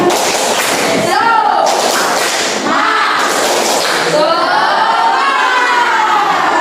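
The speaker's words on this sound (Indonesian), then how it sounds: "Tepuk semangat." A classroom of standing students performs a rhythmic spirit clap chant, sharp group claps in a patterned beat mixed with loud shouted voices, close and energetic throughout.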